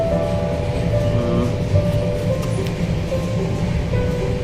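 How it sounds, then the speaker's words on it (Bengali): A passenger train pulls into Dalkhola station, heard as a steady, loud rolling rumble with a sustained metallic hum and whine running throughout, no voices. "আমাদের ট্রেন এখন ঢুকছে ডালখোলা"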